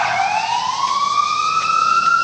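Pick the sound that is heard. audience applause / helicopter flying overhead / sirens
sirens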